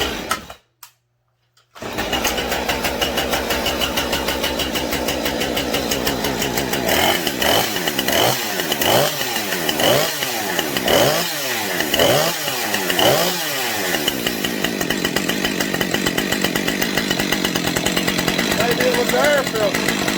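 Chainsaw without a decompression valve being pull-started: a few seconds of quiet, then repeated rhythmic cranking strokes, after which the engine catches and runs loudly and steadily up close.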